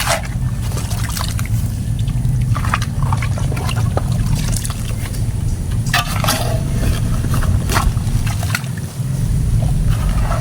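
Water pours and trickles into a freshly dug hole for a house post in sandy ground, a steady splashing wash running throughout with scattered knocks and faint voices nearby.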